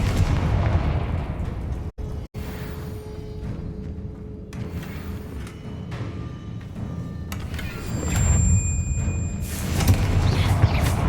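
Fiery Confringo spell explosions in the Hogwarts Legacy video game, booming blasts and crackling bursts running almost continuously, loud and dense, with a brief silent gap early on.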